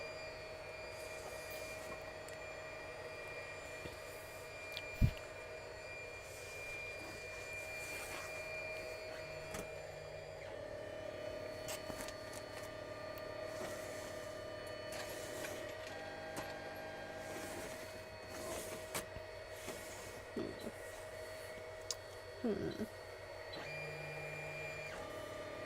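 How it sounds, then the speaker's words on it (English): A 3D printer hums and whirs faintly and steadily from the next room, with occasional small clicks and knocks in a quiet sewing room. "I think my husband might be using the 3D printer"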